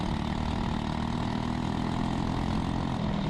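An LO206 racing kart engine runs in a steady, dense buzzing drone at constant volume, near and loud, alone without talk.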